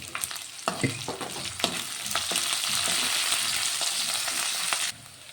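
Fried rice ingredients sizzle loudly in a pan while a utensil stirs and scrapes through them with sharp knocks, the frying hiss continuous until it drops off abruptly near the end.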